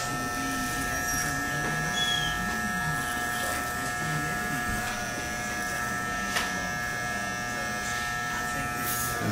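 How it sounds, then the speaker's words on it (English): An electric hair trimmer buzzes steadily and close throughout while cutting a hairline outline at a barbershop, with a constant motor whine and slight shifts as the blade drags along the edge. "Place your trimmer down, drag it away."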